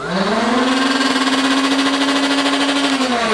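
A small electric motor in a toy foam blaster whines up to a loud, steady high-pitched hum for about three seconds, then winds down. It is close, with no talking.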